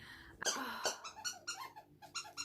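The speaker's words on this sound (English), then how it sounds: "all you can hear is that squeaky toy" A dog's squeaky toy gives a quick series of sharp, high squeaks close by, mixed with the dog's snuffling breaths.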